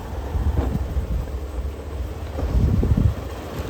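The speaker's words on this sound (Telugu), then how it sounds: "మొత్తానికైతే దుమారం, కొంచెం గాలి ఎక్కువ వస్తుంది" Gusty wind buffets the microphone in low rumbling surges, growing stronger toward the end.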